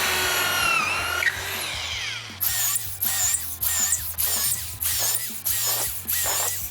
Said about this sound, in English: I'm going to go ahead and actually drill the pocket holes in each end of those